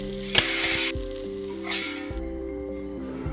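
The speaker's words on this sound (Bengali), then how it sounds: "এখন বেগুন ভাজাটা বসিয়ে দিচ্ছি।" Eggplant slices fry in a hot pan with a steady sizzle, broken by a few louder clinks and scrapes of a spatula against the pan, close and without talk.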